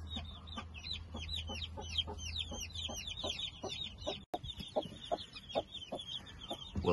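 A Brahma hen with her six chicks makes steady low clucking, while the chicks keep up a rapid stream of high, thin peeping calls close by. The sound is continuous and moderately loud, with no talking.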